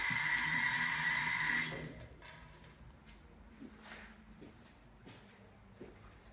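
A tap in a park restroom runs with a steady, close rush of water for under two seconds, then shuts off, leaving a quiet room with scattered small knocks and footsteps.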